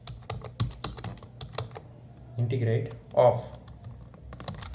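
Quick clicks on a computer keyboard come close and in uneven bursts, with a voice talking over some of the typing.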